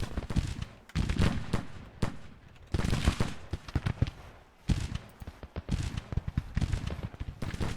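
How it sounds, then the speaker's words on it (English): Musket and cannon volleys from a Civil War battle in a strategy game, with repeated bursts of gunfire in irregular clusters, loud and near, separated by short lulls. "Making sure our guns are firing. They are."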